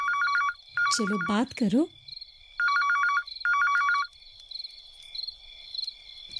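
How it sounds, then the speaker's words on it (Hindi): A telephone rings in a home with bright electronic trills in two pairs of bursts separated by a pause, while a voice speaks briefly between the first rings. "फोन क्यों नहीं उठा रही हो? किसका फोन है?"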